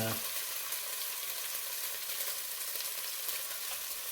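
Half a can of coconut milk sizzles steadily in hot oil for a coconut curry sauce as it is spread around the pan, a close, continuous hiss with no one talking.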